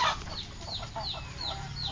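Frizzle chickens with curled, reversed feathers cluck in a quick repeated series, the calls near and fairly loud over a low background rumble.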